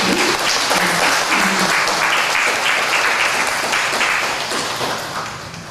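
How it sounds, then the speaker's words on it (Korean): Church congregation at a Sunday family-church service breaking into sustained welcoming applause, a loud, even roar of many hands clapping that holds steady and tapers slightly at the end, with no talking over it. "큰 격려의 박수, 환영의 박수"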